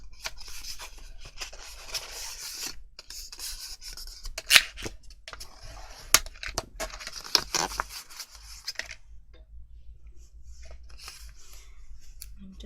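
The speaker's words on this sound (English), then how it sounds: "then we're going to taper the ends and cut off the corners." Scissors snipping the corners off a paper file folder, a run of close, crisp cuts and rustling paper with sharp snaps, then the handling fades to near quiet.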